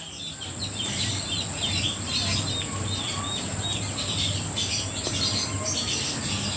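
Many small caged birds chirp and tweet busily at close range, a continuous lively chorus over a steady high insect-like drone.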